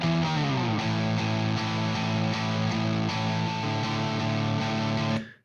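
Electric guitar run through a Presonus Empire Fender amp emulation plugin, playing sustained distorted chords that ring steadily for about five seconds before cutting off, heard alone.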